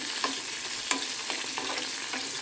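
Green chillies fry in a little oil for a chutney, a dense, steady sizzle with a few sharp clicks of a spoon stirring the pan.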